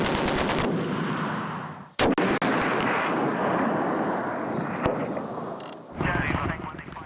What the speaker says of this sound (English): The Royal Marine gunnery positions on the high ground, who can see the enemy from their vantage point, immediately try to suppress them with heavy machine guns and sniper fire